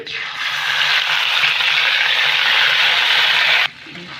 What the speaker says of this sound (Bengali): 5 ফোড়ন থেকে একটু ভেজে নেব 5 ফোড়নটা দিয়ে